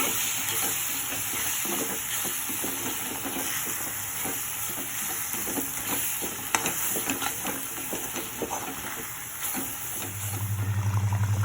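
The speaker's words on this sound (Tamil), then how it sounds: "இது கொஞ்சம் நல்லா வதக்கிடுங்க." Spices, garlic and curry leaves sauté in a hot pan for Tamil kara kuzhambu, a steady close sizzle with occasional stirring scrapes, no voices.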